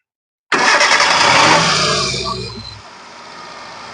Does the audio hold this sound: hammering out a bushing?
no